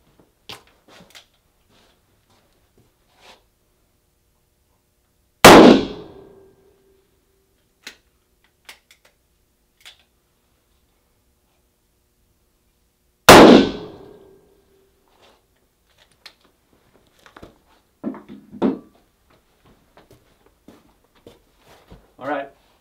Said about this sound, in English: I'm gonna shoot it right here on his chest